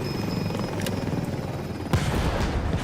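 Helicopter in a VR video game, a steady loud rotor drone throughout, with a sudden crash or impact near the end.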